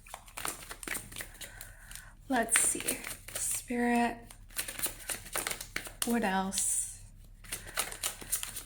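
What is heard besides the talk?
shuffling tarot cards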